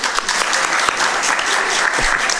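An audience at a Birmingham city council meeting at City Hall in Alabama claps loudly and continuously in dense, sustained applause.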